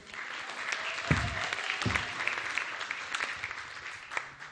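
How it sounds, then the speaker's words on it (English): A comedy club audience at Laugh Factory Chicago claps loudly and steadily for several seconds, with a couple of heavy thumps early on and a few sharper claps standing out from the dense crowd. "Clap it up for Derek, everybody."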